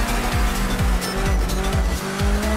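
Evo race car in a driving video game, engine roaring steadily with repeated gear shifts and tires squealing through corners, loud and continuous with no talk.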